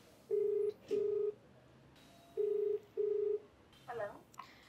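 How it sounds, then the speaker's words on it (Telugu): Four clear touch-tone dialing beeps sound on a telephone, in two pairs of short, steady tones, followed by a faint click or ring, over a quiet background. "మరి కాల్ చేయనండి."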